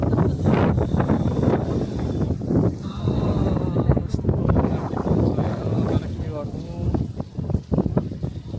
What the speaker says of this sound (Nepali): चिसो छ हावा